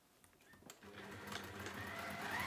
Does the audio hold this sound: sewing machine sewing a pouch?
yes